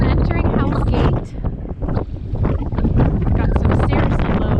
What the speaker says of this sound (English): And about 25 knots wind.